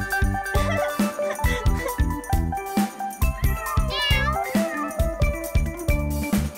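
Kittens meow in a bouncy Spanish children's nursery song, the repeated mews riding over steady rhythmic music with tinkling accents throughout.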